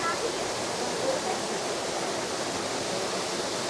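Steady rushing of stream water in a small hill village among the Maredumilli hills, a dense continuous wash of flow heard close and fairly loud throughout, with no break.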